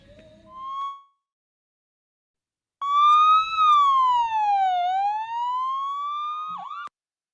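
Ambulance siren wailing loudly and close in a single long rising and falling sweep, preceded by a short tone and a pause of silence.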